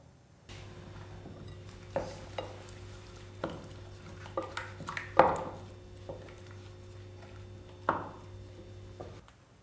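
Meat marinade with lime juice being mixed in a bowl for mixed satays, with scattered close clinks and scraping knocks over a low steady hum and no talk.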